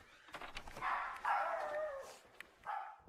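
Dog barking in a recorded clip, faint and somewhat distant: a few short agitated barks and yips spread across the few seconds, heard alone with no talk.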